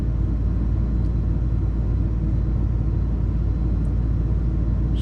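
Low, steady engine rumble of an 06 Dodge RAM 1500 truck while driving, a constant drone with no clear rev rise, loud and close with no talk.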